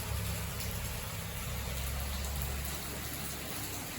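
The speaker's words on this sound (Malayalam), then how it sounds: "പുറത്ത് നല്ല മഴയാട്ടോ, നല്ല അടിപൊളി മഴയാണ് പുറത്ത്." Heavy rain falling outdoors, a steady, dense wash of broadband noise with a low rumble that continues evenly throughout without a voice.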